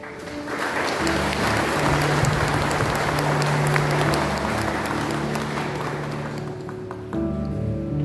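Graduation-day audience at Oriental College breaks into a long, dense round of applause that fills the hall, steady and loud throughout with a faint voice murmuring underneath.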